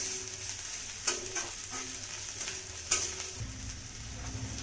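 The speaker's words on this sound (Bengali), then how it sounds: "বাঁধাকপিটা দিয়ে আমি নেড়ে নেবো ভালো করে" Shredded cabbage sizzles in a hot pan while a spatula stirs it through, a steady close frying hiss punctuated by a few sharp scrapes and taps, with no speech.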